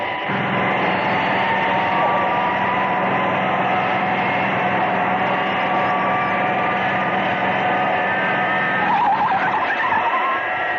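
Aircraft brakes skid on a runway as the Fireflash airliner, riding on three elevator cars, runs out of runway: a loud, sustained screeching roar with a steady mechanical hum underneath, continuous for about ten seconds.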